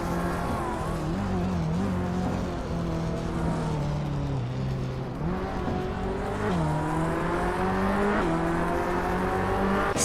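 A 2014 BMW M235 race car and its rivals in iRacing snarl off the start at Cleveland, with the engines holding a steady drone and the pitch rising and dipping as they shift through the gears.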